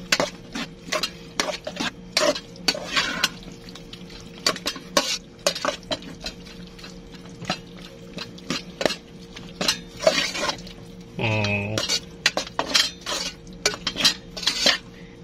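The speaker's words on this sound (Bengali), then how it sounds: "ফুলকপিগুলো এবং মশলার সাথে মিক্স করে নেব" A spoon stirs cauliflower and tuna with spices in a pan, making a steady run of close metallic scrapes and clinks against the cookware, with no voices.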